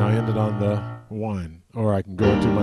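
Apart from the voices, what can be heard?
No everyday noises stand out.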